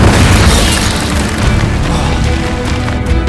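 An Incendio fire spell blasting in Hogwarts Legacy combat, a loud booming burst that rolls into a sustained roaring rumble.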